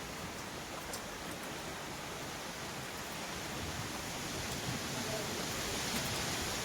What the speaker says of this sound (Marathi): खूपच भयानक असा वारा आहे